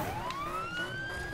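A police siren in Need for Speed (2015) wails and rises in pitch, loud and steady, over road rumble.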